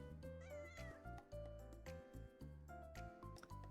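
A shy cat in the video game Little Witch in the Woods meows repeatedly, a series of short, clear, close mews over a soft musical background, heard alone without talk.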